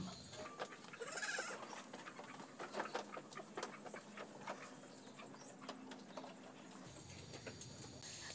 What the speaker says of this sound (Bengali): ছাগলগুলো খুবই সুন্দর দেখতে